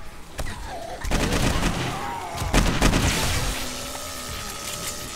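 Gunfire in the survival game 7 Days to Die with the Darkness Falls mod: several sharp, loud shots in irregular bursts, each with a booming tail, with a faint voice murmuring underneath.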